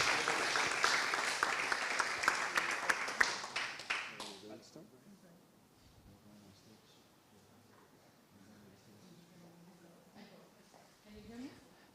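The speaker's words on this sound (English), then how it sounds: "So please, a big round of applause to" An awards-ceremony audience claps briskly for about four seconds, then the applause cuts off and a speaker talks quietly over a hushed room.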